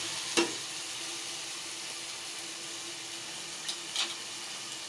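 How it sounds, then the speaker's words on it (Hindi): Fish pieces frying in oil in a pan for curry, a steady close sizzle with a few sharp scraping stirs of the spoon, and no talking. "अब मैंने मछली को अच्छी तरह भून लिया है।"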